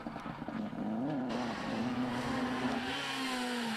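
A Subaru rally car from the Rallye de l'Avesnois 2011 drives past with a loud, sustained engine drone whose pitch rises and holds steady under hard acceleration, close and continuous.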